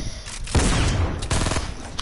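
Rapid video game gunfire in a multiplayer match, loud bursts of overlapping shots in two clear volleys, close and dense, with no talking over them.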